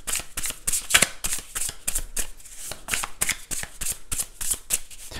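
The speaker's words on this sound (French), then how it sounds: "3 cartes de tarot, mais on va d'abord les brasser un petit peu tout de même" Tarot cards being shuffled by hand, a quick, continuous run of crisp papery slaps and flutters, close and fairly loud, with no talking.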